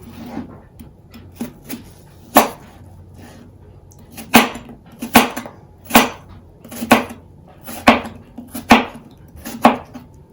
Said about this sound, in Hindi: एप्पल लिए हैं, अब सेब को कट कर लेते हैं।